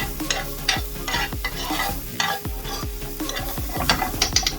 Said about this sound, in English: again we're just stirring.